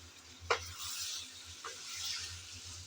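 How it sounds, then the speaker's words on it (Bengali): Sponge gourd curry is stir-fried in a pan, a quiet ongoing sizzle with two distinct spatula scrapes against the metal, the first louder than the second. "আমি কিছুক্ষণ ডেকে রাখে ভালো করে একটু কষিয়ে নিলাম"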